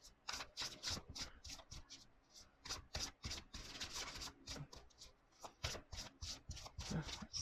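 A tarot card deck shuffled repeatedly up close, quick riffling and rubbing bursts in an uneven rhythm, soft and intimate with no talking.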